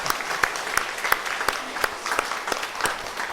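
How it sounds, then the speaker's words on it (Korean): A church congregation at a Sunday service claps to welcome a speaker, a fairly close, lively burst of many hands with distinct sharp claps standing out above the rest. "우리 이성교 선생님 박수로 환영해 주십니다"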